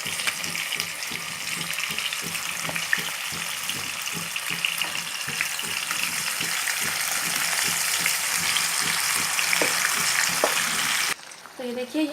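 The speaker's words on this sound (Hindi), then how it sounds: "अब हम इसमें हमारा मैरिनेटेड चिकन डाल देंगे।" Marinated chicken frying in spiced oil for a home-made chicken biryani, giving a dense, steady sizzle close by with light stirring scrapes, cut off abruptly near the end.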